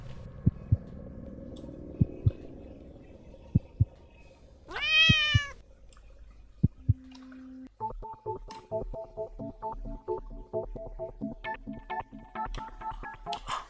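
A cat meows once in a video game, a clear rising and falling call standing alone between faint rhythmic ticks, followed by a busy electronic game tone pattern.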